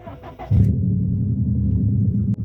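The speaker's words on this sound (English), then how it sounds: "Let's turn the car on so you guys see." A Subaru STI engine cranks briefly, catches, and settles into a steady low idle rumble close by.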